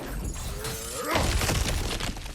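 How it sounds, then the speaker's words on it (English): Breakable objects are smashed in God of War Ragnarök, bringing a sudden crash and shatter with scattering debris midway, close and fairly loud over a low rumbling game background. "back to smashing through things for fun and profit"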